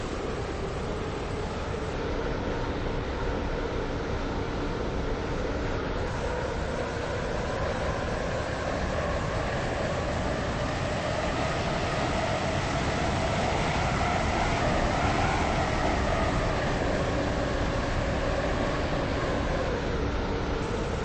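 A train in the Roblox game Stepford County Railway runs on a waterline service, giving a steady, continuous rumble of wheels and motor with a slowly rising and falling whine, heard alone at an even, moderate level throughout.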